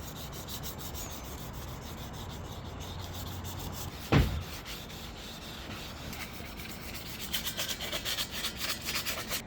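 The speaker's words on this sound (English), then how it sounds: "Time to sand her down to get ready for paint." Steady abrasive rubbing of sandpaper on a Coleman minibike frame, a continuous scratchy hiss interrupted by one sharp knock, growing more rhythmic toward the end.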